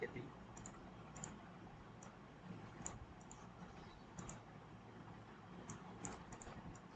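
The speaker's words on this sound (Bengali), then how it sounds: "সাপোজ ধরেন আমি এটি লিখে দিচ্ছি, এখান থেকে সংখ্যা লিখে দিই।" Numbers keyed into a Google Sheets spreadsheet on a computer keyboard: light, irregular clicks spaced through a hissy room background, fairly faint and close.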